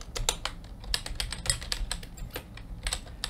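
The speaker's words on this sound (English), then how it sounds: "just open up your terminal or your command prompt and type in pip" Quick, irregular clatter of keys as a command is typed on a computer keyboard, close and fairly quiet, with short bursts and pauses between keystrokes and no talking.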